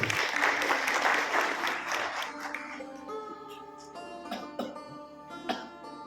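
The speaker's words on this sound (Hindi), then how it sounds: "एक बार जोरदार ताली आनंद जी को" Audience at a talk in Jabalpur gives loud applause for Anand ji, a burst of many hands clapping that fades over a few seconds as music with sharp accents carries on underneath.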